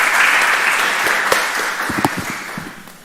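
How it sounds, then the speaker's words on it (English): Loud applause from the audience at a RegionArts final event, clapping that gradually thins and fades toward the end with a few distinct claps standing out. "a big applause"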